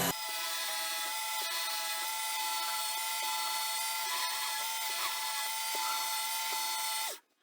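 A Work Sharp WSKTS2-I belt sharpener running on a knife, a steady high mechanical whir with faint repeated scraping passes as the blade is drawn across the belt, ending abruptly when stopped.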